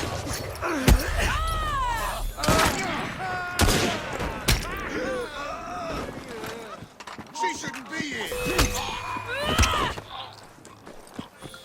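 Gunfire in Assassin's Creed Syndicate comes as scattered sharp shots and short bursts, mixed with groans and footsteps while people talk throughout.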